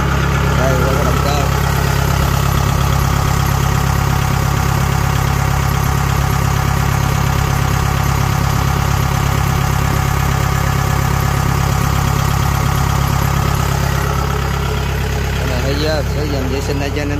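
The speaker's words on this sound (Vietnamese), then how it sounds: "Đây là cái động cơ." A used Kubota DC-70G combine harvester's engine idling, a steady, loud mechanical drone with constant low rumble that holds evenly throughout, while someone talks briefly near the start and end.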